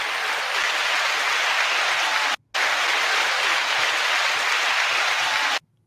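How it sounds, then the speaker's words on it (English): Loud, dense applause fills the space continuously, pausing briefly before resuming and then cutting off. "9-second applause."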